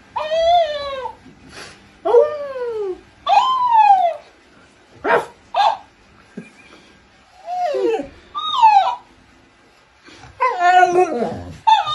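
A dog gives a run of rising and falling whimpers and short howling cries, about eight separate bursts spread evenly over the stretch, close and fairly loud with brief quiet gaps between them.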